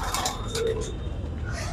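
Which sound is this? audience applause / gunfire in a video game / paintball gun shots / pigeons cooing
pigeons cooing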